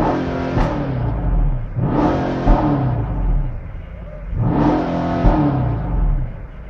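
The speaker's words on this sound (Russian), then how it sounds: "послушать, как звучит Mercedes S-класс кабриолет версии AMG" A Mercedes-Benz S-Class AMG cabriolet's engine revs in two rising surges with a deep, throaty roar, each swell followed by a settling idle, heard up close with no talking.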